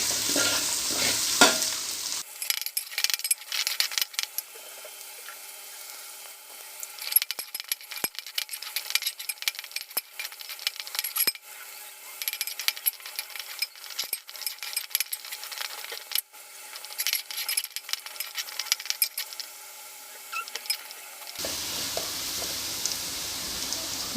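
Green chillies and curry leaves sautéed in coconut oil for a prawn pickle sizzle in a pan, with frequent scraping and clinking stirs against the metal. A louder burst of sizzling opens and closes the stretch.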